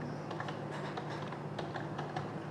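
Steady typing on a computer keyboard during data entry in Peachtree accounting software, with rapid irregular key clicks throughout and no speech.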